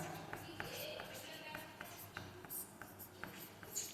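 Pen or chalk writing equations onto a graph during a Class 10 maths lesson on pairs of linear equations in two variables, heard as faint, quick scratchy strokes repeating against steady background noise.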